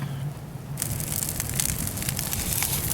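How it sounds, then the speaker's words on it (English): Burning coal in a small stove, freshly loaded with about five scoops, gives a dense, steady crackle and fine popping that starts abruptly and continues close and fairly loud over a low rumble. "Listen to the crackle of coal"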